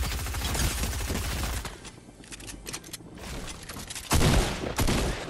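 Rapid automatic gunfire in Fortnite, loud bursts of dense firing, a quieter stretch with scattered shots, then another heavy burst near the end.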